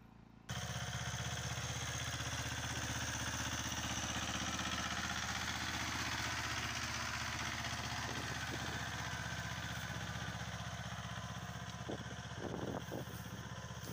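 A small two-stroke mini tractor engine runs steadily and loudly at close range throughout, a continuous buzzing drone with light clatter and no talk over it.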